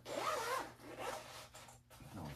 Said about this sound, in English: we've got a zipper here